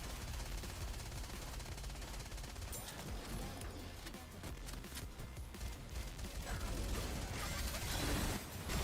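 Sustained rapid gunfire in a video game, aimed at an enemy's arms, forms a dense, loud, continuous barrage with mechanical clatter throughout, and nobody speaks.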